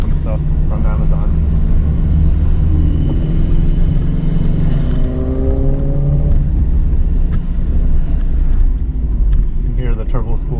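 Inside a 2.5RS GC8 Subaru Impreza with a swapped-in EJ205 engine on a test drive, a loud, constant road and engine rumble carries a faint turbo spooling whine that rises in pitch midway.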